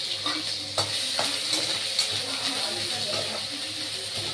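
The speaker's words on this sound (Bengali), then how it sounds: "আদা দিয়ে ভাজা ভাজা করে নেব" Ginger and green chillies frying in a pan for a Bengali spinach dish, a steady close sizzle with occasional stirring scrapes and light utensil clinks throughout.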